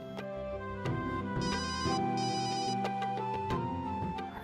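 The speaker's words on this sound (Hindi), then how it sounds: "मिनी माँ का फोन है।" A melodic electronic ringtone plays on its own, a bright looping tune with chime-like notes and a steady pulse.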